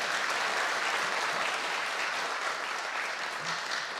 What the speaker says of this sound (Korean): 박수 치려면 확실히 치고 안 치면 잘.